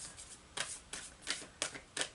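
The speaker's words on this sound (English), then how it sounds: "I do pre-shuffle the cards so we don't have to spend a lot of time. I still have to shuffle" Oracle cards from an Angels and Ancestors deck are shuffled by hand in five quick, close riffling bursts, each a crisp papery flutter separated by brief pauses.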